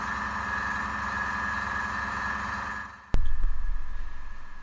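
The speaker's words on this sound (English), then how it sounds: "The sound you hear in the background is the compressor, which is generating the air which is needed for, well, air brushing" A miniature-painting airbrush compressor hums steadily in the room at moderate level, then cuts off with a sharp click and a low rumbling, pulsing thud afterward.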